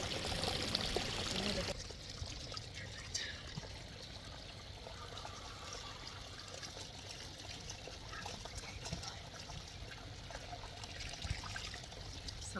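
Hot spring water trickles and pours steadily at a spa-like soak spot where dogs are bathing, a louder splashing rush at the start settling into a continuous close trickle.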